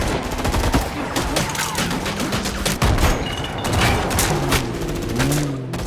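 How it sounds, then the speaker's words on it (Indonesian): Gunfire rattles through a gangster shootout in a film, with dense rapid bursts and sharp cracks layered over loud, continuous action noise. "ada dua kelompok gangster yang sedang terlibat baku tembak"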